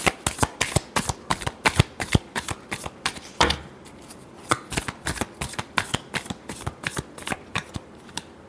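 A deck of cards is shuffled close by in quick, crisp riffles and sharp flicks, rhythmic bursts with a brief pause midway before the snapping resumes.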